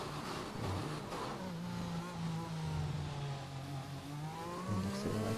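An F1 car in the F1 2021 racing game accelerates around the Austrian circuit in career mode, its engine note climbing and shifting in steady rising sweeps, close and continuous.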